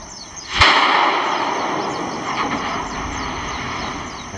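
One sharp explosive blast bursts from Kilauea's lava Fissure 17 during the 2018 eruption, then gives way to a steady, loud roar scattered with faint pops.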